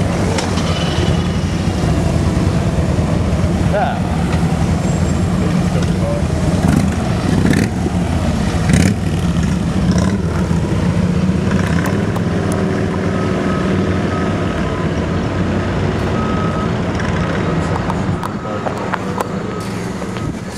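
Police vehicles driving and revving outside a camp at night, a continuous engine rumble with passing vehicle noise that stays fairly steady and loud throughout.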